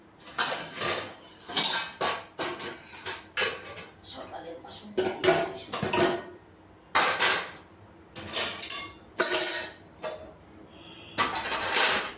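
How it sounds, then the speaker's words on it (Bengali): Dishes and pots being moved and rinsed at a kitchen sink before washing fish: repeated clattering, clinking bursts of crockery and metal with running-water splashes, close and fairly loud, broken by short pauses. "আমার বাসন কয়টা ধুয়ে নিতে হবে তা না হলে মাছটা ধুতে অসুবিধা তা না বাসন সরিয়ে নিই"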